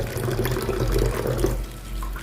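Water poured into a vessel while making butterfly pea flower tea, a steady close splashing trickle for a couple of seconds, with no talk.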